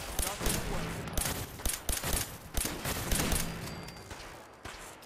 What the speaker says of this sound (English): This little firecracker gun is a 10mm with a silencer on it.